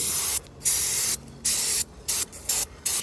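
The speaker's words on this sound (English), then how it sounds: "What I'm going to do is now going to apply some more WD-40 onto the chain." WD-40 sprayed in short, sharp bursts onto the chain of a Suzuki GSX1250FA motorcycle, six hissing spurts with brief pauses between them, close and clear with no talk.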